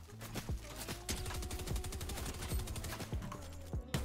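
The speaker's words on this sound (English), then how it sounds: "Is someone shooting at us?" Automatic gunfire in the Fortnite video game, a rapid steady stream of shots with sharp repeated cracks lasting throughout, heard close and fairly loud.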